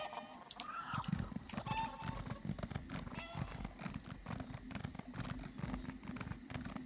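A horse in Elder Scrolls Online clip-clops along with a steady rhythm of hoof steps, quiet and close, and a short neigh comes in near the start.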